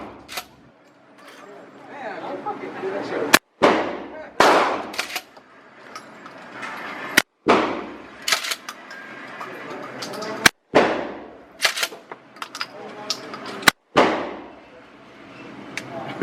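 A 12 gauge shotgun fires at an outdoor gun range in five sharp, loud blasts spaced a few seconds apart, each followed by a decaying echo, with people talking faintly between shots.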